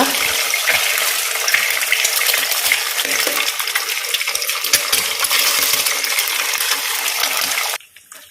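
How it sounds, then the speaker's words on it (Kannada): Beaten eggs hit a hot pan of coconut oil with popping mustard seeds, setting off a loud, dense sizzle and crackle that runs steadily for several seconds before stopping abruptly. "ಸಾಸಿವೆ ಸಿಡಿದ ಮೇಲೆ ಮೊಟ್ಟೆಗಳನ್ನು ಇದಕ್ಕೆ ಹಾಕುವ"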